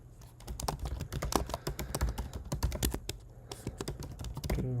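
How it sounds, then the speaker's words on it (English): Fast typing on a computer keyboard, close up: a dense, irregular run of sharp key clicks with no pauses. "I gotta type in my info here"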